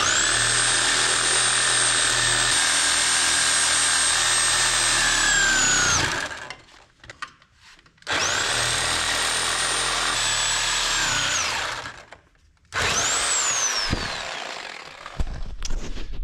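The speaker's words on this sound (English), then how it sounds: "now the Sawzall's starting to bind up a little bit" A Sawzall reciprocating saw cuts through the steel frame rail of a 1000cc 200hp ATV, running loud and steady in three long bursts separated by brief pauses.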